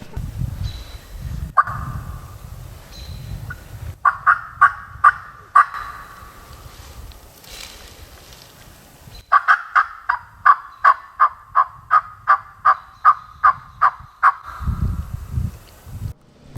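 Wild turkeys gobble from their roost in a series of loud, rattling bursts, first scattered and then in a rapid run of a dozen or so gobbles, with quieter gaps and low rustling between them.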